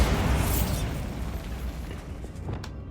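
A Bombarda blasting spell in Hogwarts Legacy goes off as a loud, broad rumbling explosion filling the start, then decays into a sustained low roar with a few crackling bursts near the end, no talk.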